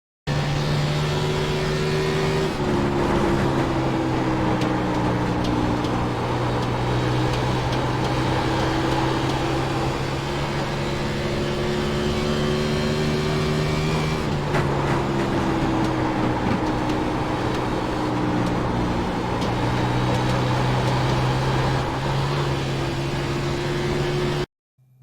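Simulated race car engine from iRacing at Dover, droning loud and steady through a full lap with long sustained tones that shift gear-like at a couple of points, no voices, cutting off abruptly at the end.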